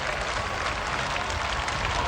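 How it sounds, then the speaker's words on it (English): Crowds packed along the wet streets of London during the 1983 marathon, clapping and cheering in a steady, distant wash of applause. "The streets of London packed with cheering crowds"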